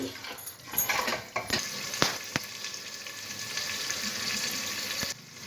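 Mutton sautés in mustard oil for kosha, giving a loud, continuous sizzle and crackle with scraping stirs and several sharp knocks of a spatula against the pan.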